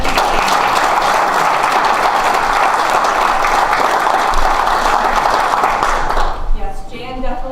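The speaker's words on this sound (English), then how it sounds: "So round of applause for them." A crowd at a business leaders breakfast applauds in a loud, sustained burst of many hands that ends sharply near the close, after which a speaking voice takes over.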